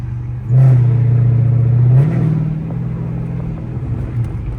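A loud, raspy exhaust from a catless, straight-piped Chrysler 300C bursts into a deep rumble as the throttle opens, holds a steady drone, then eases off into a lower idle burble.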